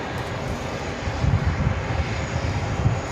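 A jet airliner's engines roar steadily at JFK airport as an Emirates A380 waits near runway 13 right, a continuous broad rumble of moderate loudness with no voices.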